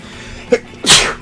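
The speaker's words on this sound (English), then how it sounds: "I gotta sneeze bad." A single loud sneeze up close, with a brief sharp intake of breath followed by a forceful, breathy burst.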